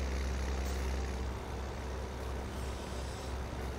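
The in-game engine of a T-Dub truck in Farming Simulator 17 drones as a steady low rumble with a broadband hiss, even and unbroken throughout, with no voices.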